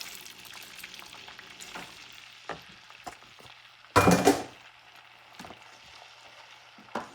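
Tomato sauce stirred into sizzling homemade sofrito with spicy peppers in a pan, a steady frying hiss broken by scattered utensil scrapes and one loud burst of spatter when the sauce goes in.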